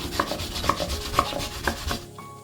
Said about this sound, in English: So I decided to make use of grater.